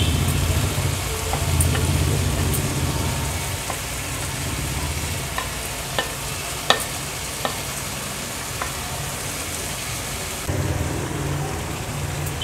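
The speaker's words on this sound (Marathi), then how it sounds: "आता व्यवस्थित हा फणस आपल्याला ह्या ग्रेव्हीमध्ये मिक्स करून घ्यायचा आहे।" A spoon stirs mashed raw jackfruit into gravy in a pan for a Konkani-style jackfruit bhaji, with a steady sizzle and soft scraping, plus scattered sharp clicks of the utensil against the pan.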